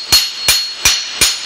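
An axe head is hammered onto a plastic handle with four sharp, loud metallic strikes, evenly spaced about a third of a second apart, each ringing briefly before the next.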